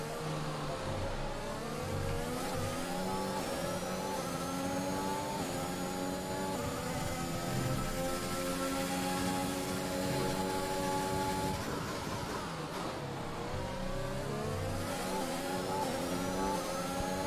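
An F1 car engine in the F1 2021 racing game at the Azerbaijan circuit revs and shifts with a continuous high whine, rising through gears in repeated sweeps, loud and steady with a brief drop near twelve seconds.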